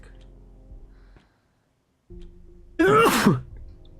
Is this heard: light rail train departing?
no